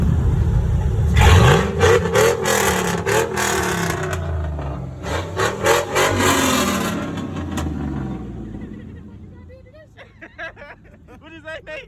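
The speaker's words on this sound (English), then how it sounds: "Go ahead, hit the gas." A car engine revs hard as the gas is hit, a loud rising roar with a turbo-like whine that swells, pulses and then fades as voices talk near the end.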